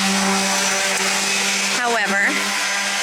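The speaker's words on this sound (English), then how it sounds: "I think we are about finished sanding" A power sander working on a pop-up camper during renovation, a loud steady motor whine with a pitch wobble near the end as the tool shifts against the surface, and a voice faintly underneath.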